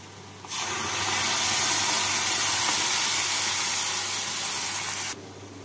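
Tomato paste hitting onions already fried until reddish in a pan for a tangra fish curry sets off a loud, steady, broadband sizzling hiss that surges in suddenly, holds for several seconds, then cuts back to quieter background.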